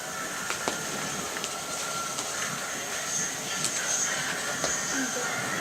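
Steady hissing with scattered metallic squeaks and clicks, like a train standing nearby, continuous and moderately loud.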